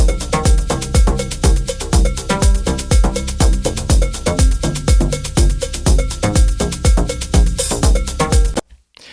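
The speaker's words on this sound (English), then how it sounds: "Just a really nice kind of elasticy sounding bass" A bouncy synth bass line with a rubbery, springy tone drives a busy electronic groove with steady percussion, then cuts off abruptly near the end.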